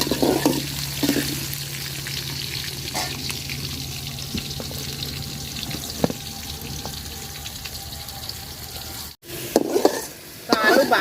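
New potatoes fry in hot oil in a pan with a steady, close sizzle that runs nearly the whole time, broken by a few stirring clinks and scrapes and a brief gap near the end.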